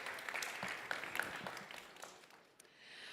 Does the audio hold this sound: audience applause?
yes